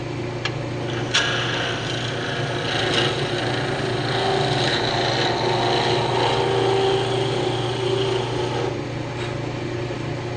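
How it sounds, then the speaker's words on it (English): Continuous sanding of an acrylic pen blank spinning on a wood lathe, a steady close abrasive rasp with the low motor hum beneath it, lasting throughout without pause. "I just sand it down"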